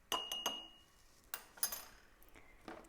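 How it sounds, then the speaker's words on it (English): A metal spoon clinks against the sides of a glass while stirring liquid for a wizard's brew experiment, several sharp, bright taps in irregular bursts, close and fairly quiet, with no talking. "Next, take a spoon. Stir"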